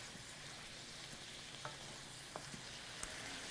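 Sesame green beans frying in a pan over high heat, a steady low sizzle with a few faint clicks and small pops running through it and no voices.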